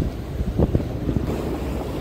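A boat passes near a rod-fishing spot off Mumbai, heard as a low, rumbling wash of engine and water under heavy wind noise on the microphone, fairly steady with a slight swell in the middle.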